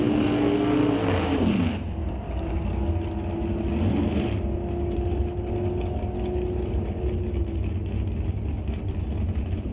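A Gen 3 Camaro drag racing car at an NHRA divisional qualifying event roars loud and steady, its engine note holding strong with a brief pitch shift early on, no voices over it.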